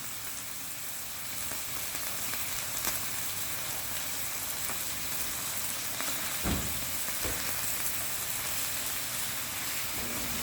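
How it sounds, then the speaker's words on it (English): Meat browning on both sides in a non-stick pan, a steady broadband sizzle that runs close and even throughout, with a couple of brief clicks or knocks partway through and no talk. "all I'm doing is browning these on both sides"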